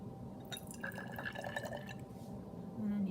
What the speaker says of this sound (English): I'm going to carefully pour 15 milliliters of water